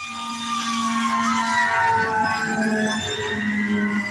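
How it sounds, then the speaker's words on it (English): A fire truck siren wails at a distance, rising and falling tones sliding up and down over a low engine hum, moderately loud and steady for a few seconds with no talk. "Fire truck."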